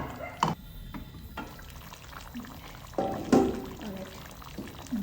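Vinegar is poured into a tangy, spicy pickle mixture in a home kitchen, giving short splashy liquid bursts separated by pauses, moderately close, over faint background noise.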